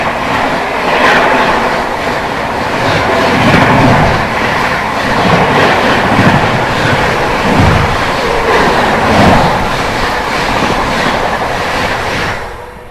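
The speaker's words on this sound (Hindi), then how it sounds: "चलिए दोस्तों, सामने से आती हुई न्यू दिल्ली राजेंद्र नगर टर्मिनल पटना तेजस राजधानी एक्सप्रेस।" New Delhi to Rajendra Nagar Terminal Patna Tejas Rajdhani Express passing on Indian Railways: a loud, steady rumble of wheels and rolling coaches with rhythmic clatter that fills the whole stretch.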